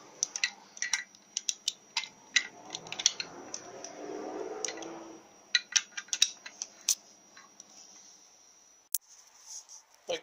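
Bolts being tightened on a cast iron Chevrolet Powerglide transmission, sharp metallic clicks and taps from a wrench come in irregular clusters, close and fairly quiet, with a brief scraping rustle in the middle.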